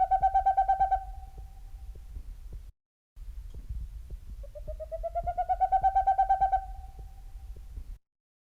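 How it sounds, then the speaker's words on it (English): A series of low, hollow whistled hoots in a steady rhythm, building in loudness, with a brief pause before another run of toots. "It's a series of 8 to 20 low whistled toots that get progressively louder as the song goes on."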